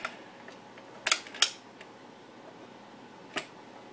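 Pump-action Crosman air gun being pumped: two sharp mechanical clicks close together, then a single later click, faint and close against a quiet background.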